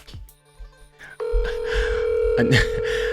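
Telephone ringback tone on an outgoing call, a steady droning tone that starts partway through and runs under brief talking and background noise.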